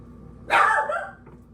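A single dog bark, loud and close, a sharp yelp that trails off quickly, with a faint second sound shortly after.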